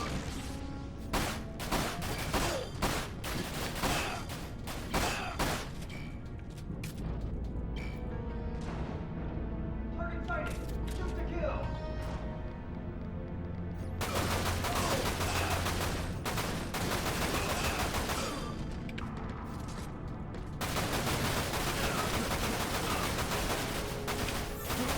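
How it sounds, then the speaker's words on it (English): Gunfire in the video game Dirge of Cerberus: Final Fantasy VII, dense bursts of rapid shots and heavy booms filling the scene, loud and sustained with a deep rumbling stretch midway. "Shoot! Shoot, Vincent, shoot!"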